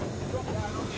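A heritage passenger train slowing as it pulls into Loughborough during a gala, with a steady, loud rumble of the carriage heard from on board and wind buffeting the microphone.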